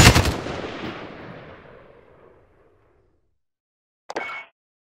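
A single heavy shotgun blast goes off in a tactical video game, with a long decaying tail, followed after a pause by a short sharp metallic burst. No voices are heard.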